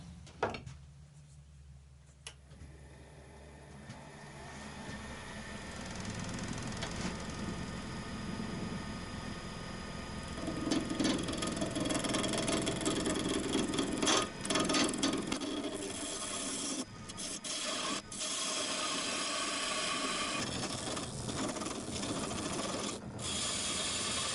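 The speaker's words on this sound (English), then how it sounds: "So I'm going to get this put on a lathe, get it turned around, put the tenon on this end, and then we'll get it shaping." A wood lathe with a duplicator turns a wooden Christmas tree, giving a continuous rubbing, scraping cut with faint ratcheting rattles under a steady motor hum, close and moderately loud, with no talking.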